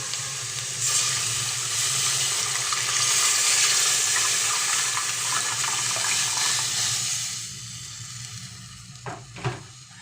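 Hot water poured into a simmering pot of mung bean and ground pork stew gives a steady close hissing sizzle that fades near the end, followed by a couple of brief knocks.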